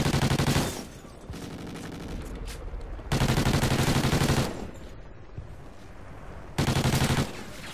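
Automatic weapons fire in Call of Duty: Ghosts multiplayer, with three loud, sustained bursts of rapid shots and quieter distant shooting in the gaps between them.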